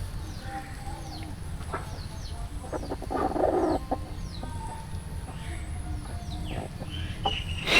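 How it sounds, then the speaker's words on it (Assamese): A hen clucks near a village house in Assam in short, scattered calls over a steady outdoor hum, with faint chirps from other birds around it and no speech. "আৰু মুৰ্গীটোক চাওক"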